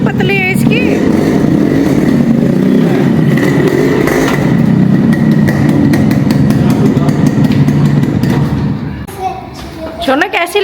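A Yamaha RX100 two-stroke motorcycle engine runs close by with a loud, continuous rattling putter and occasional thumps, while family members talk over it. The engine fades briefly near the end.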